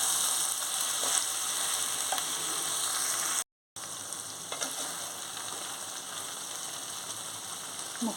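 Gongura chicken frying in a pan as coriander powder is stirred in, a steady close sizzle with faint scraping, broken by a brief silent gap partway through.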